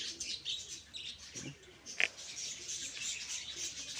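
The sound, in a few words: birds chirping at farm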